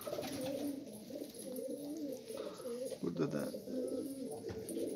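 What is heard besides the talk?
pigeons cooing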